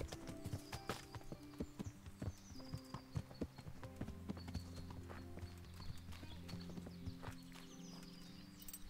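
Horse hooves clip-clopping in the video game Kingdom Come: Deliverance, a steady walking rhythm of soft hoof falls, quiet and without talk.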